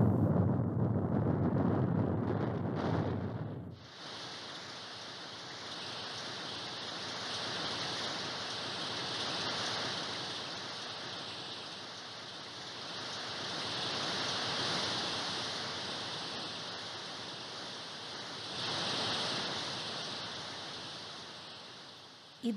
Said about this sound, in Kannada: ಇದ್ದಕ್ಕಿದ್ದಾಗೆ ಈ ಮಳೆ ಶುರುವಾಯಿತು.